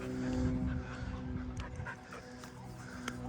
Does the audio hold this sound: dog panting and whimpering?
yes